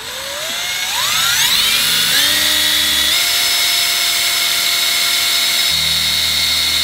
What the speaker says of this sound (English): I'm about to drill a hole right here in the middle of this pot